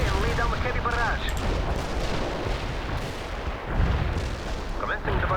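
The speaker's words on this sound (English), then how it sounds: "Artillery strike on the way. We can deploy and lay down the heavy barrage." Artillery barrage in the real-time strategy game World in Conflict, heard as a dense, continuous roar of distant blasts and rumbling impacts with no break, carrying steadily from start to finish.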